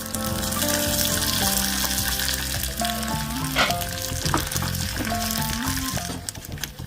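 Steady, dense sizzling and spluttering of mustard seeds popping in hot oil with curry leaves, loud and close, with no voices.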